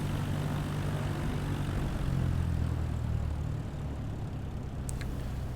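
A light aircraft taxiing in Microsoft Flight Simulator 2020, with a steady droning engine hum and low rumble that swells slightly midway and runs continuously without talk.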